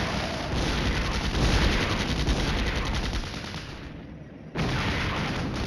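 Mortar and gunfire in the wargame Flashpoint Campaigns: Red Storm, a dense, continuous crackle of rapid shots and rumbling blasts that briefly drops out near the end before resuming at full strength.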